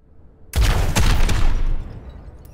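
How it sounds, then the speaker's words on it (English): Overwatch Helix rockets fired at targets, a sudden loud burst of rapid blasts and booms that rolls for about a second and a half, then fades into a decaying rumble. "Fire your Helix rockets at the targets."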